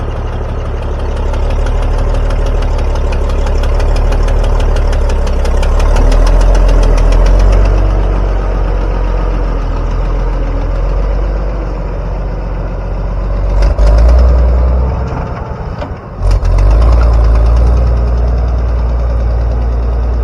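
A large 7.3 IDI diesel truck engine rumbles steadily at close range, knocking and idling with a brief dip and surge near the end.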